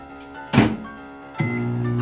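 Two firm thunks from a microwave oven door being shut while a cinnamon mug cake is being cooked, the second followed by a steady hum as the oven starts running.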